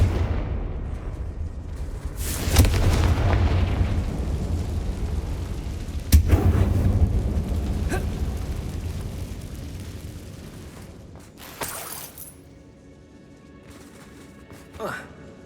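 Fiery Confringo spell blasts in Hogwarts Legacy, two heavy booming explosions a few seconds apart with long rumbling decays, followed by smaller crackling bursts and debris as the din fades.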